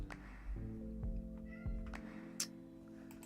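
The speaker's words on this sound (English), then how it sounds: "Go away, cat." Cat meowing nearby indoors, a drawn-out tonal meow followed by shorter calls and a faint click, fairly quiet with no talk.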